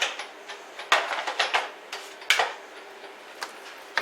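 Electronic cutting machine slicing through card, a series of short clicks and soft ticking bursts with quiet gaps between them, fairly close and without talk.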